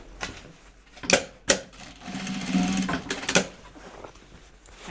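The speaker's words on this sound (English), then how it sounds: "I'm gonna sew it on there." A sewing machine stitches a fabric flap onto a bag prototype, running in a steady mechanical burst between sharp clicks and taps, close and fairly loud, with no talking.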